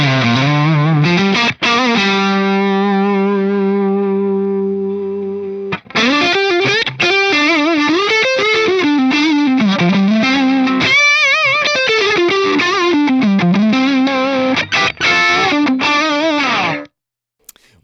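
Les Paul style electric guitar played through an AX8 modeler using a Blues OD drive into a Twin amp model, loud overdriven chords and melodic lines with sustained notes, played alone with a few brief pauses.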